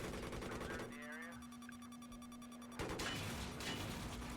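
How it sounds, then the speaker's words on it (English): Rapid machine gun fire from a Battlefield 3 Armored Kill game weapon rattles in a dense burst, cutting out briefly and then resuming, loud and close over a steady electronic hum. "The next primary weapon is a machine gun."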